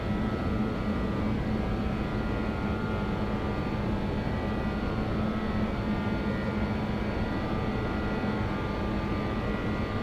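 A BAe 146 airliner in the X-Plane 11 flight simulator rolls for takeoff in bad weather, its engines a steady, loud, broadband roar with a faint tonal whine, continuous and unbroken.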